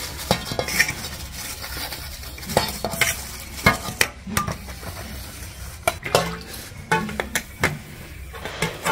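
Whole tempering spices crackle in hot oil in a home kitchen pan, with repeated sharp clanks and scrapes of a utensil against the pan over a low, continuous frying hiss.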